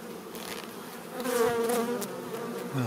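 Bees buzz close at an open colony hive, a steady hum with individual bees rising and falling in pitch as they fly near.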